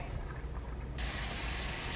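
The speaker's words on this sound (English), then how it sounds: "the reason I spray this pan is I'm gonna put the spaghetti in it" Cooking spray is sprayed onto a baking pan before spaghetti goes in, while a leftovers dinner is prepared. After a second of quiet room noise, a sudden steady airy hiss starts close by and continues to the end.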